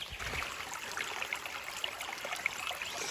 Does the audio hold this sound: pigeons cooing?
no